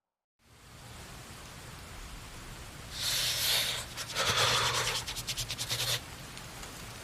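Rain falls on a cold night as a soft, steady hiss that swells midway into louder gusty bursts of downpour before easing back.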